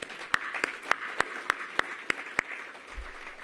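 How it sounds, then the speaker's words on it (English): Audience applause at a mayor's New Year housing kickoff event: scattered crowd clapping with a few sharp, regularly spaced nearby claps standing out above the steady wash, ending with a low thump. "let's give yourselves a round of applause for joining us today."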